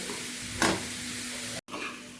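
Spicy, tangy corn sizzling in a pan, with one stirring scrape early on and a short break in the steady frying hiss near the end.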